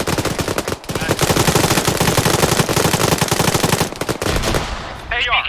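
Sustained automatic gunfire in the Arma 3 military shooter, loud, rapid bursts of dense rhythmic shots running almost continuously for about four seconds, with a brief pause early and a few more shots near the end.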